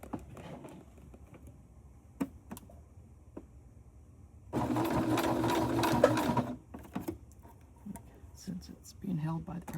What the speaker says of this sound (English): We're going to zigzag just down the center of this, just to hold it in place with stitches.